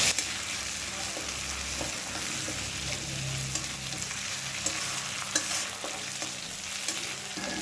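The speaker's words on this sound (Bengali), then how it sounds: "আবারও মিডিয়াম ফ্লেমে 30 থেকে 40 সেকেন্ড ভেজে নেব।" Half a tablespoon of ginger garlic paste frying with onions on a medium flame for a fish curry, a continuous soft sizzle broken by intermittent spatula scrapes and taps, no talking.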